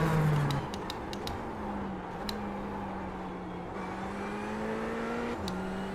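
Race car engine in the Tango Racing Simulator game held at full throttle through a hairpin, a steady droning whine that dips briefly and then climbs again, sustained and fairly close.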